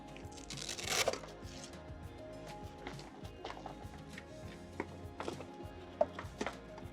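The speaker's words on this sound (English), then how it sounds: "So we'll undo the Velcro." A Velcro strap on a blower door fan housing is pulled open in one short, quiet tearing rip, followed by faint scattered clicks and handling rustles.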